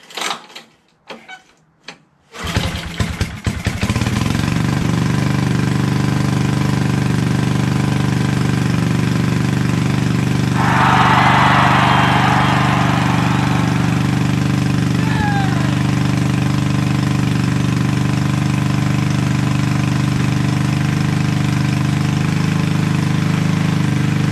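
Briggs & Stratton 5HP engine on a Toro 58-inch three-gang professional reel mower, with a Pulsa-Jet carburetor, running on choke, starts with a few sputtering pulls and then settles into a steady close idle with a brief hissy burst midway.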